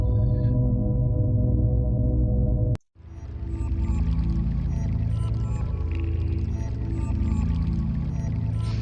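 Running water plays through a track from the Yume Nikki soundtrack, a steady watery wash under a low musical drone. The sound cuts off briefly midway and then returns at an even level.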